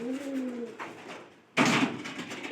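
A caged pigeon gives a soft, drawn-out coo up close, followed by a brief quiet gap and then a sudden scraping clatter.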